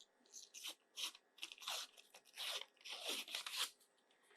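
The paper label is peeled off a can of refrigerated biscuits, heard close up as a run of crisp tearing and crackling bursts in irregular rhythm, with no talking.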